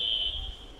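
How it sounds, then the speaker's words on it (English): Quiz buzzer at a school quiz championship being tested: one short, steady high-pitched electronic buzz that fades quickly, heard alone. "let's test our buzzers"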